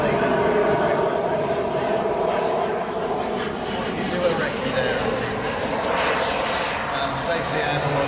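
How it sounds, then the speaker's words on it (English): An F-16 fighter jet takes off at an airshow, its engine roar a steady, broad, distant rumble filling the whole stretch, with no break or pause. "Safely airborne is the second F-16."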